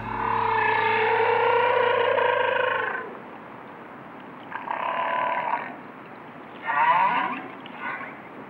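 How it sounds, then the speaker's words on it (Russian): Narwhals call in the sea with tonal, beluga-like chatter: a long harmonic whistle-buzz, then two shorter bursts of pulsed, warbling calls over a low hiss. "общаются своеобразными звуками, напоминающими беседу белух"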